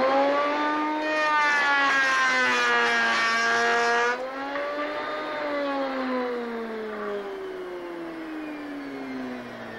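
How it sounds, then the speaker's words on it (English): A Triton router overloaded while cutting a 45-degree bevel in hardwood in a single pass, its motor whining loud and strained with a high harmonic tone that drops in pitch midway as the motor bogs under load, then keeps labouring. "I'm overloading the router. You could hear the motor protesting."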